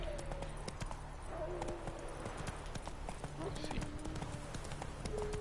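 Roach the horse's hooves clop in a steady trotting rhythm in The Witcher 3, close and clear, while someone talks over the hoofbeats and faint game music.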